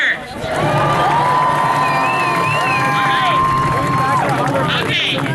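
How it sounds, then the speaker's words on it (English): A rally crowd gathered before the Seattle science march cheers and whoops loudly for the mayor, with shrill whistle-like yells rising over a steady roar and voices mixed in throughout. "let's have one more round of applause for the mayor"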